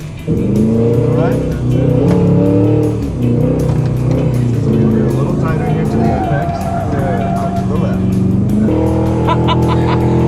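A Cadillac Escalade V-Series engine drives hard on a track with a loud sustained roar, rising and shifting revs heard from inside the cabin, while people talk over it throughout.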